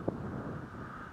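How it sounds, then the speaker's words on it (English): Steady wind buffets the microphone with a low, continuous rumble on a ridge above Highway 31 at Winter Ridge, Oregon, in October; no voices and no other distinct sounds. "It's a little bit windy, so."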